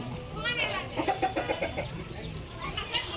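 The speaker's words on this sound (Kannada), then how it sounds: "ಸೊ ಇಲ್ಲಿ ನಾವು ಕೋಳಿಗಳನ್ನ ನೋಡ್ಬೋದು" Village chickens and a rooster cluck in a quick run of short calls over a steady outdoor hum, with people talking faintly in the background.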